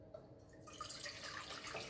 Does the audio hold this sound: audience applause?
no